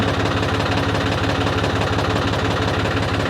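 A John Deere tractor engine labours steadily while pulling a 10-foot rotavator, a loud close diesel drone with a fast regular knocking pulse throughout, no talk.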